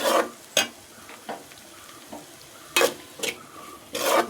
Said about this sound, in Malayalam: ഇഞ്ചി പിന്നെ കറിവേപ്പില, പച്ചമുളക് ഇതെല്ലാം കൂടി ആഡ് ചെയ്ത് നന്നായിട്ട് മൂപ്പിച്ചെടുക്കുക